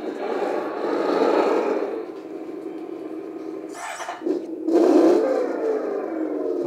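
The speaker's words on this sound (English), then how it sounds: "I like the tractor sound." A synthetic engine rumble from a small RC hydraulic loader's sound system runs continuously, swelling and dipping in pitch, with a brief break in the middle before it revs back up.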